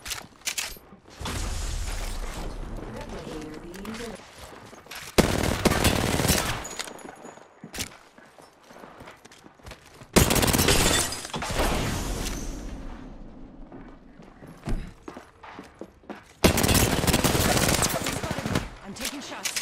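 Bursts of automatic gunfire and single shots in a squad-based battle royale shooter, fighting inside one building, loud broadband volleys recurring through the stretch with quieter gaps between them.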